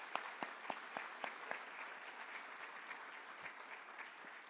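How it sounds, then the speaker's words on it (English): An audience claps at a nursing pinning ceremony for new graduates, a burst of sharp individual claps up front that settles into a soft, steady round of applause heard from a distance. "if we can give a round of applause"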